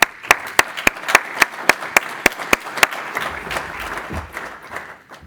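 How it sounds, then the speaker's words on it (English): Conference-room audience bursting into applause, with a few sharp, loud, evenly spaced claps standing out near the front over a broad wash of clapping that gradually thins and fades. "let's give Kev a big round of applause"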